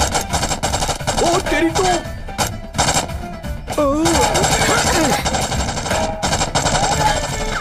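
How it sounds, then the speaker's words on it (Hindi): Video game gunfire, loud rapid bursts of machine-gun shots that run almost continuously with brief gaps, mixed with a game soundtrack while several people talk excitedly over it. "गोली चलाओ। चलाओ भाई चलाओ।"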